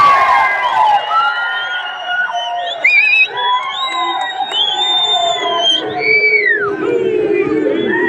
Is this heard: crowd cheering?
yes